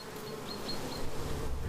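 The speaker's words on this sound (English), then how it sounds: "So the bees within these hives, they are actually UK native bees. So they are Bombus terrestrius." UK native buff-tailed bumblebees (Bombus terrestris) buzz around hives near tunnel crops on a farm, a close continuous droning hum with a few brief higher whines.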